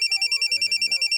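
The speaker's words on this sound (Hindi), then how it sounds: "फोन बजा, फोन बजा।" A phone rings with a rapid electronic trill, a steady pulsing tone repeating about ten times per second and quite loud, while a faint voice murmurs beneath it.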